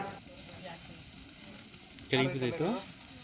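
Chicken grilling at a family cookout, a soft continuous sizzle and hiss close by, with someone speaking briefly over it near the end.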